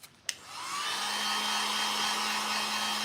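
A hair dryer blows on wet paint on a cloth rag ghost decoration. A couple of clicks come first, then the motor switches on and ramps up into a steady, close whine and rushing airflow.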